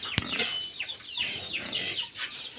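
Several soft chirpy clucks and peeps from two-month-old chicks, repeated at an irregular pace, with a brief sharp tap near the start.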